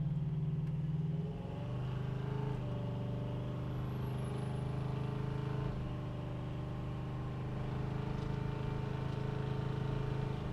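A 1984 Chevrolet C10 pickup's engine hums steadily and climbs in pitch, dropping briefly as the transmission shifts gears, with continuous road noise throughout.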